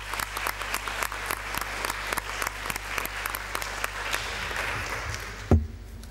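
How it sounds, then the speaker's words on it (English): An audience at an academic teachers' conference closing ceremony gives a sustained round of applause with many distinct claps, steady and fairly loud, which stops abruptly near the end. "So, another applause."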